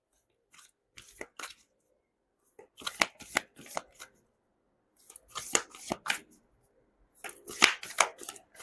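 Tarot cards shuffled and drawn at a reading, close and fairly quiet, coming in three bursts of crisp riffling and flicking separated by short pauses, with no talk over them.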